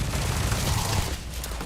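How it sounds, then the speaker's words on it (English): Rapid gunfire as a full magazine is emptied into an enemy in the sci-fi game Starfield, a dense, sustained rattle of shots at steady loudness that tapers slightly near the end. "I dump a whole mag into this guy and it just doesn't."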